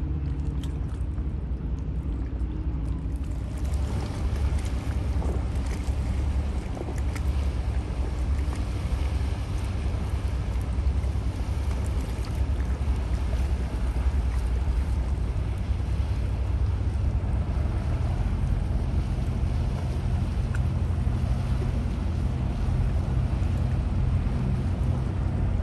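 A yacht transport ship moves through open water, giving a continuous low engine and wave rumble with steady wind buffeting the microphone throughout. No voices are heard.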